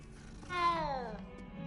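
A cat in the Hogwarts Legacy video game gives a single drawn-out meow that slides downward in pitch, clear and close over a quiet background hum.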